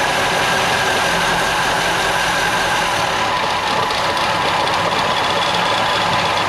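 An abandoned Volvo 340, just revived after a crank sensor fault and a fuel problem, runs steadily with a broadband engine rumble and hiss, loud and close, without speech.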